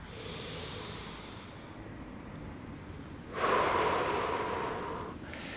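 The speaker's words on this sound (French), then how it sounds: "je souffle sur 5 secondes" A person breathes slowly during a horizontal-breathing exercise: a soft airy inhale, then a louder, steady hissing exhale that fades after about two seconds, close to the microphone with no talk.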